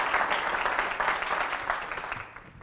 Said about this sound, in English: I want y'all to clap your hands for David